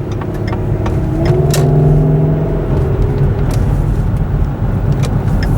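A 2009 Ford Flex engine with a K&N intake revs up and settles, a loud, throaty, steady rumble close by with a rising tone near the start and no talk.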